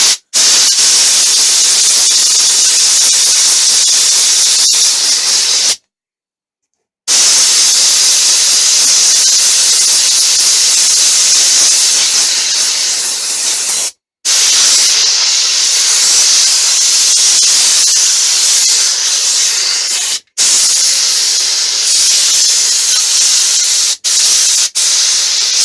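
Compressed air blasts dust out of a vacuum cleaner in long, loud, hissing bursts close by, broken by brief silent pauses between blasts.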